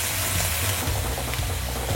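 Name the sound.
stir-frying pork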